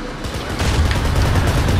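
Gunfire in the video game Kane and Lynch, heard as a dense, continuous rattle of shots and low booms that grows slightly louder partway through, with no talking.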